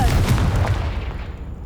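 A fiery Confringo blast in Hogwarts Legacy hits a pile of debris: a deep booming burst with crackling impacts that rumbles and fades over about a second.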